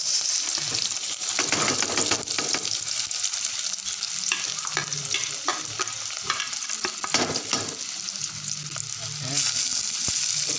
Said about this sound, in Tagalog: Isigisa lang po natin ng konti yung bawang at saka sibuyas.